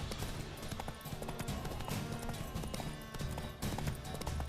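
A horse gallops in The Witcher 3, its hooves pounding in a quick, steady rhythm under other game sounds at low volume.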